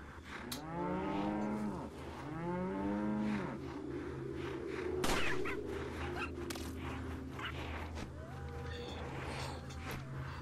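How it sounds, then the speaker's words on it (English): Mooing of a cow or bull inside the Resident Evil 4 VR video game, with several loud, drawn-out moos close by in sequence and farm ambience in between. "Hey, Mr. Cow, or no, you're a bull."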